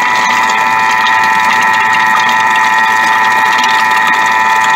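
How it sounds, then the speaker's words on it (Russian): A Thermomix kitchen machine running at speed 4 for 30 seconds gives a loud, steady motor whir with a constant high tonal hum throughout. "Я включаю 30 секунд скорость 4."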